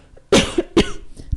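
A person coughs twice in quick succession with a short pause between, close and loud, followed by a softer throat sound, in a quiet indoor setting.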